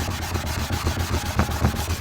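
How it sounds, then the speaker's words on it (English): 1000 grit sandpaper is worked over car paint in wet sanding with quick, even back-and-forth strokes that make a steady rasping rub, close and continuous. "Just wet sand it off with 1000 grit."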